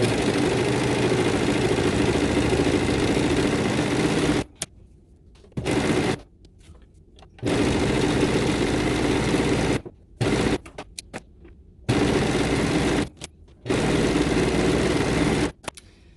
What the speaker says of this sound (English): I only serge the bottom, armpits, and neckline.